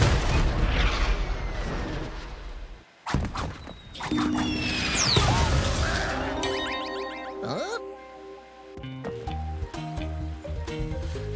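Cannon fire in Crash Bandicoot 4: It's About Time, with sharp booming shots punctuating busy game effects, including a loud blast about three seconds in, then clattering crashes and tonal sound effects.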